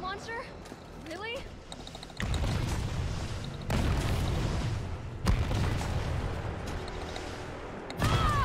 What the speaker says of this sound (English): Oh, I got hit with the rocket launcher.